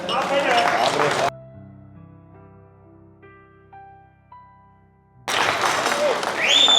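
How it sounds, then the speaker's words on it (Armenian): Applause from a group at a birthday gathering for a father, loud bursts of clapping and crowd noise at the start and again at the end, with a quieter, tonal stretch in between. "իսկ հիմա դուք ձեզ ծափեր տվեք"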